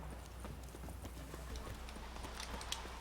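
Roach the horse trotting in The Witcher 3, a steady run of clip-clop hoofbeats over a low game hum, moderately close and even in rhythm, with no one talking.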